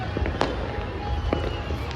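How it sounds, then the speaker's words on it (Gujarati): Diwali-season firecrackers go off on all sides: a few sharp, fairly faint pops and cracks stand out from a steady haze of far-off bangs. "ચારે બાજુ એક જરા ફટાકડા છૂટે છે"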